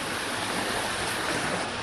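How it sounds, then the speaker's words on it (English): A brook in downtown Vernon, British Columbia, rushes steadily nearby, a dense, constant broadband watery hiss with no pauses and no voices. "Nice brook."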